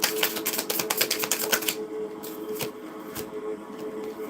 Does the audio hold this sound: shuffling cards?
yes